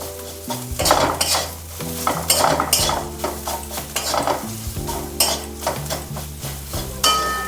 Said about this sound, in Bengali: কম গ্যাস করে শুকনো কড়াতে মশলাটা ভেজে নেবে